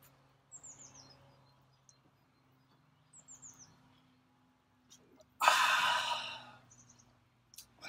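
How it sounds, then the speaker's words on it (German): Small birds chirp faintly in the distance, a couple of brief high calls, followed by a loud breathy exhale up close. "die Vögelchen zwitschern zu hören"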